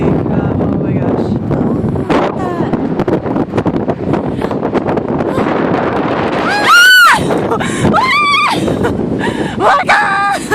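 Loud wind buffeting a handheld microphone outdoors, a heavy rumbling roar that runs through the whole stretch, overlaid by excited voices and high shrieks toward the end.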